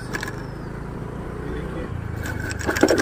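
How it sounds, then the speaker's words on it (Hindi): Car engine hum on a morning road while the vehicle speeds up, a low steady drone with faint tonal whine, some clatter and rising noise toward the end, with someone talking over it. "अपनी गाड़ी थोड़ा तेज चलाता हूँ गाइस"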